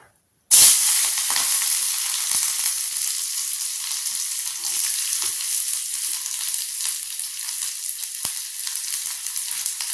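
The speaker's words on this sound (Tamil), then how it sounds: "இந்த உள்ளி வதக்கிக்குவோம்" Onion hits hot coconut oil in a kadai, bursting into a loud sizzle that settles into a steady, even crackling hiss with occasional faint pops.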